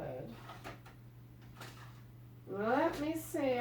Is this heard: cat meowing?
no